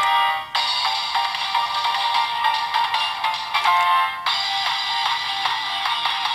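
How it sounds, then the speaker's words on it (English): Electronic music blares steadily from a Kamen Rider Geats DX Beat Raise Buckle transformation belt toy, one track cut short about half a second in and another change near four seconds, with no talking. "Here you press the keys, it'll cycle through three different music tracks."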